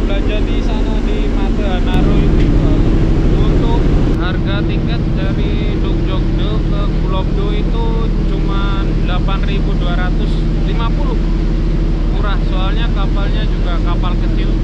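A small, noisy ferry boat's engine thrums loudly on the crossing to Gureopdo island in South Korea, a constant heavy drone with a deep rumbling hum that runs unbroken, with voices faintly present over it.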